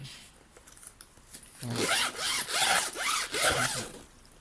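Zipper on a sturdy 80 cm fishing rod bag opened in a few quick, smooth rasping pulls, loud and close after a short quiet start.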